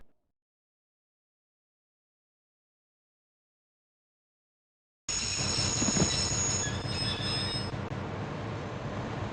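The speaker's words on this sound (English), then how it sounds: "I'd always wanted to stop a train" A train in the video game Broken Sword: The Shadow of the Templars grinds to a halt, its wheels squealing loudly with high metallic screeches over a heavy rumble of railcars after about five seconds of silence.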